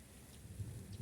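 Warm autumn rain falls steadily over a garden, a soft, even patter with a low rumbling undertone, faint and continuous throughout.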